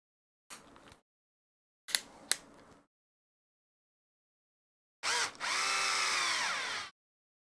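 A power driver runs in short bursts, two brief zips and then a longer whirring run with pitch sweeps, as it drives an M3 x 10 screw into a Tekno RC SCT410.3 short-course truck, in quiet surroundings.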